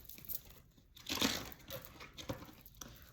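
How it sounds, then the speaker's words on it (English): Tarot cards being shuffled by hand, soft papery riffles and crinkly rustles in uneven bursts, fairly quiet and close, with no talking. "let me just shuffle a few more times"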